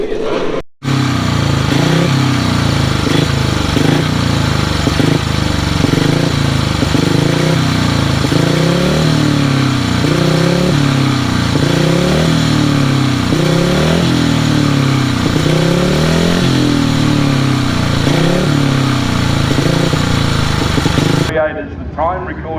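Speedway motorcycles with laydown engines racing at Gillman Speedway during the Australian Masters Games, a loud, sustained roar of engines rising and falling through revs as they pass, with a voice talking over them.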